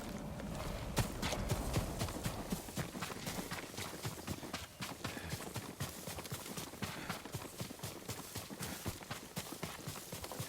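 A horse's hooves clip-clop in rapid, steady beats in the video game Ghost of Tsushima, a continuous run of thuds at moderate distance with no voices over it.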